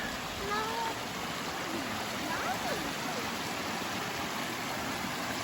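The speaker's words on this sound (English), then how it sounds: "That's a pretty little creek, isn't it?" A wide mountain creek beside a dirt cliff on an Appalachian Trail hike near Carvers Gap flows in a steady, close broadband wash that fills the scene, with faint voices and a brief high call over the rushing water.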